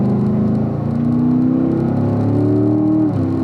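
A car engine pulls hard under throttle, a loud close droning whir that climbs steadily in pitch as it accelerates, with a brief dip near the end.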